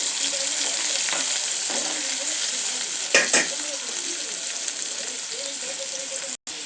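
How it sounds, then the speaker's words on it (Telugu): Mustard seeds, sliced onion and green chilli frying in oil in a pan, a steady bright sizzle throughout with a few sharper crackles and stirring scrapes midway. "ఇందులోకి సన్నగా కట్ చేసిన ఉల్లిపాయ, పచ్చిమిరపకాయ ముక్కలు వేసుకోవాలి. ఇప్పుడు ఇవి బాగా ఫ్రై అవ్వాలి."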